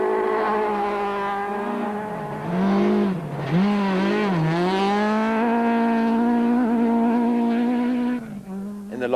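A rally car driven hard on a stage during the Osram Rally 2005, its engine loud and close, revving and wavering in pitch through gear changes, then dropping off briefly near the end.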